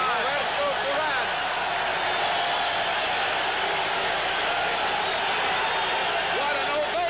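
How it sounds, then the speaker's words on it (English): Boxing arena crowd roaring in a sustained ovation as fighters enter the ring before the Sugar Ray Leonard versus Roberto Durán bout, with dense continuous cheering and applause throughout, loud and enveloping. "What an ovation. Listen to this crowd."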